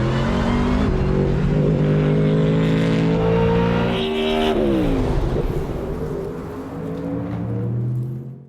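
A Ford Mustang GT3 race car built for 24-hour endurance racing, its Coyote-based 5-liter V8 roaring loud and close with rising revs, a brief gear-change dip midway, then pulling hard again before cutting off.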